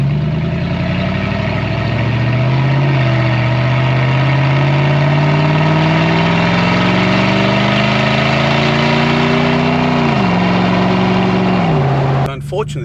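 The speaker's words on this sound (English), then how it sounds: "listen to the awesome sound of the 2UZ" A deep Lexus GX470 2UZ V8 engine with straight-pipe exhaust rumbles steadily at close range, its note slowly rising with the revs, dipping briefly, then settling back near idle.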